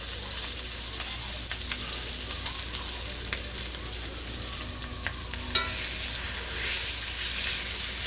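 A New York strip steak sizzles steadily in a hot pan, a continuous close hiss with scattered small pops and crackles throughout, no voices.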